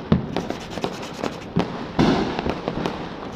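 Diwali firecrackers burst outdoors in quick succession, with dense, irregular crackling pops and a few louder booms layered over a continuous background rumble of explosions.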